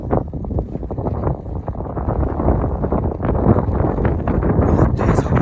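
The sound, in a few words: strong wind blowing during blizzard at Rangdum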